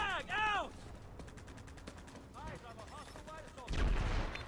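Gunfire from the video game Planetside 2 crackles in rapid bursts amid sweeping electronic game effects, with a heavier blast near the end; moderately faint and alone without talk.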